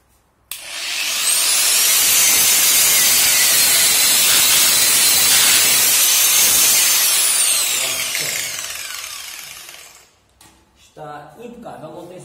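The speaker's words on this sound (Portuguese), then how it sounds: "Agora vamos tirar aqui o resto da solda, que é para isto ficar lisinho." A power tool grinding leftover weld off a footpeg bracket on a Keeway Superlight 125 motorcycle, a loud steady whining grind for about nine seconds that winds down, followed by someone talking.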